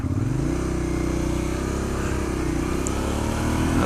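A Suzuki SV650 motorcycle engine drones loud and close, its pitch rising steadily as it pulls up through the gears, with a brief dip early on during a shift.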